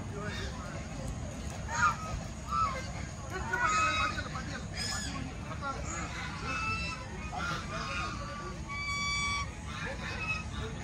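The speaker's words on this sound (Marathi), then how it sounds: "सगळीकडे नुसते बदकच बदक." A large flock of ducks at a farm resort calls around the listener, scattered honking quacks at varying distance over a steady rumble of ambience, with people talking faintly in the background.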